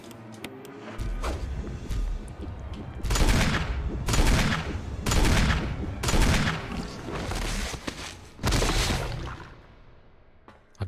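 Five or six loud, spaced gunshots from a self-defense gun ring out in the Resident Evil REmake game, each followed by a short decaying tail, over a quiet background.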